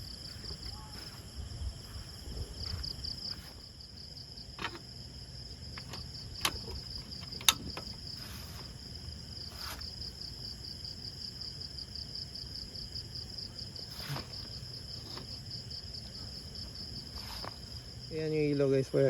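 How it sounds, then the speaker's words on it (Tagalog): Crickets chirp in a continuous high, steady drone at night beside a river campsite at Magdalena, Laguna, with faint scattered knocks and low background sounds and a louder rustle near the end. "Kuliglig lang yung maririnig mo halos."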